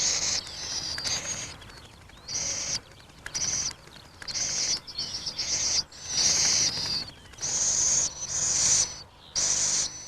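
Repeated high, rasping begging cries from little owl chicks in short bursts with brief pauses, close and fairly loud, no talking.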